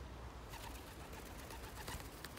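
A pigeon cooing softly amid steady outdoor noise, with a few faint low calls in a short stretch.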